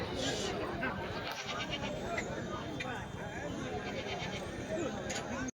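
Rams and goats bleat at a busy weekly sheep and goat market in Kadiri, with local-breed rams on sale; calls come repeatedly amid a dense crowd murmur and people talking throughout.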